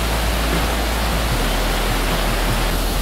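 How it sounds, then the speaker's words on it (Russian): High river water rushing through a foggy mountain canyon in the Caucasus near Psebay, Krasnodar region, a steady, loud, unbroken roar with no pauses. "Бузует вода. Поднялось воды столько."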